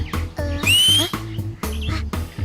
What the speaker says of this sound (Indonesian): Ada bunyi siulan.